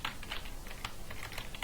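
Text typed on a computer keyboard with the text tool in Photoshop, a quick irregular run of light key clicks, close and fairly quiet, with no talking.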